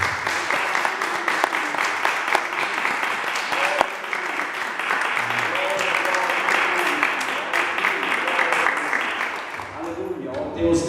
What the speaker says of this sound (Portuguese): Gostaria que você aplaudisse a palavra de Deus.